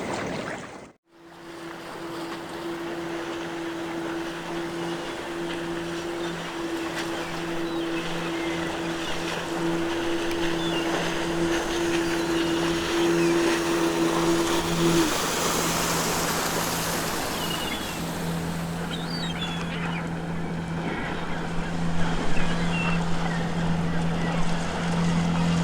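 Boat sailing across ocean waves in the video game NiBiRu: Age of Secrets, a steady wash of water and wind with a low engine-like drone running throughout, loud and continuous with a brief swell near the end.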